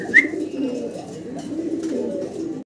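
A pair of racer pigeons coo softly at close range, with a brief chirp at the start and low, murmuring coos running through the short stretch.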